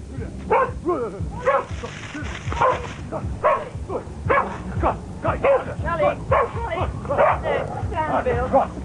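Dogs bark repeatedly in close, rhythmic bursts with yips and whimpering, loud and near, in a rural setting near the Glastonbury Festival in 1992.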